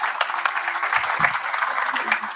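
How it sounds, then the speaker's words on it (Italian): An audience at an evening reading event applauding, a steady, moderately distant wash of clapping sustained throughout. "mi piacerebbe fare un bel applauso a due persone"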